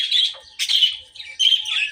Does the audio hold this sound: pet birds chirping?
yes